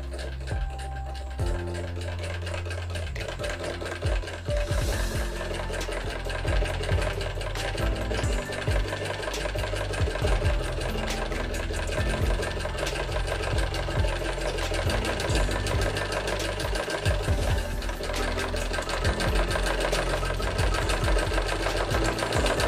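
A sewing machine runs continuously, stitching a fabric strip for neck binding, a loud, close, rapid mechanical hum with a dense chattering rhythm and no pauses.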